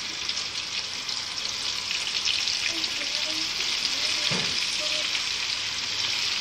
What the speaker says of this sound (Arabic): دلوقتي بقى نحط في الزيت، لازم الزيت يبقى سخن كده يا جماعة عشان السمك ما يشربش منك زيت